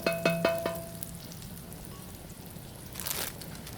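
Bacon frying in a hot cast iron skillet gives a soft, continuous sizzle, with a few metallic clinks at the start and a short scraping burst later.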